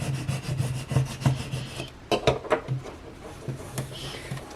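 Vinyl transfer tape is scraped firmly across an acrylic table number, giving repeated rubbing, rasping strokes close up, with a few sharper scratchy bursts midway.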